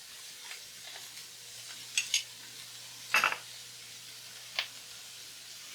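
Mushrooms frying in bacon fat over medium heat in a pan, a low steady sizzle broken by a few sharp bursts of crackle and spatter, close by with no talk.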